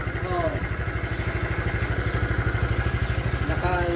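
A carbureted Keeway motorcycle that runs but will not pull putters with a fast, steady pulse of exhaust beats, close and fairly loud, while people speak briefly nearby.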